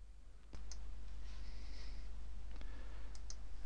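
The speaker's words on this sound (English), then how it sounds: "So if I click on the Cocoa one, you'll see that it starts to talk." A few crisp clicks from a computer mouse on a desktop, sharp and close, set over a steady low electrical hum.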